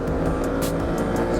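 Engine of a Ducati 950 Multistrada motorcycle being ridden, a steady, loud drone with no break, close and alone.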